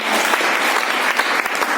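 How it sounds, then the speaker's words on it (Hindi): A hall audience gives vigorous applause for the achievers, a dense and loud burst of clapping that runs steadily for under two seconds. "चलिए एक बार जोरदार ताली बजाएंगे हमारे सारे अचीवर्स के लिए।"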